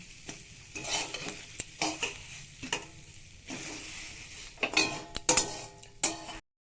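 Chana dal frying in a kadai: a soft, low sizzle runs under repeated spoon scrapes and light metallic clinks against the pan, with louder stirring knocks near the end.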